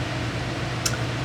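A steady electric fan hums and whirs close by, a constant low drone with a brief faint tick partway through.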